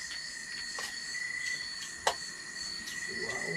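Crickets and other night insects chirp steadily at night while people eat outdoors, a continuous high trill with a few louder chirp bursts, fairly faint and with no talking.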